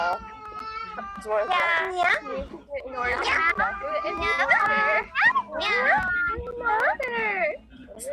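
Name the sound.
people saying "nya" imitating a cat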